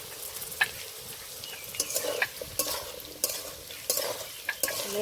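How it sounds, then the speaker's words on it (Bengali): Potatoes with salt and turmeric frying in a pan give a close sizzle, punctuated by repeated scraping strokes from stirring at a roughly steady rhythm. "ভালো করে ভেজে নেব বন্ধুরা আলুটা ভাজতে ভাজতে দেখুন সেদ্ধ হয়ে গেছে"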